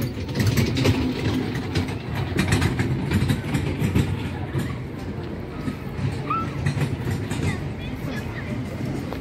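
A small train ride at a temple ground rattles and clanks steadily with a mechanical, ratcheting rumble throughout, with people talking over it.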